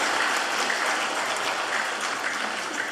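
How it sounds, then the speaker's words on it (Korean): A church congregation at a Sunday service applauds the choir with a continuous, even wash of clapping from many hands, moderately loud and steady for the whole stretch. "우리 성가대 박수를 한번 합시다."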